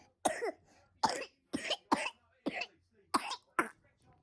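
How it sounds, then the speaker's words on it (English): A two-month-old baby with RSV coughs in a run of about eight short, harsh, separate bursts, close and clear with quiet pauses between. "he was coughing so bad"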